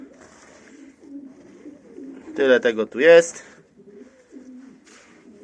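Pigeons coo softly and repeatedly in a loft with dry natural litter, low rhythmic calls close by, while someone speaks briefly over them partway through.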